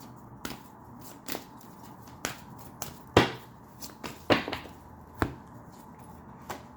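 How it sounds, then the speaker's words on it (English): A deck of playing cards is shuffled repeatedly, giving sharp intermittent riffles and snaps at irregular intervals, close and fairly quiet, with no talking. "Y'all see me shuffling the cards."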